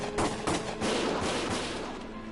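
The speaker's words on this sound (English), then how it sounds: "Gunfire!" Gunfire from the Valkyria Chronicles video game crackles in a dense, continuous burst of overlapping shots, loud and close, with rapid bursts like a firefight under way.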